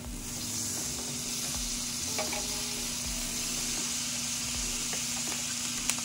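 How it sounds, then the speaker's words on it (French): Butter sizzles steadily in a heated frying pan, a continuous close crackling hiss with a few small clicks and pops, and no voices over it. "nous mettons un poêlon chauffé, nous mettons un petit beurre là-dedans"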